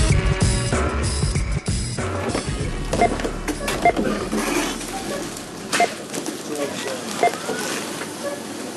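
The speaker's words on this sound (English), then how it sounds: "that's the sound of a cash register at a supermarket" Busy supermarket ambience with a cash register's beeps and printing chatter, scattered electronic tones, and a steady murmur of background activity throughout.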